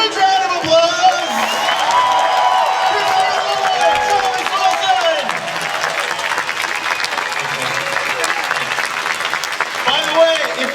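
Audience applause and cheering at a convention panel with two actors, a dense sustained wash of clapping with some whoops, loud and steady throughout, with voices mixed in.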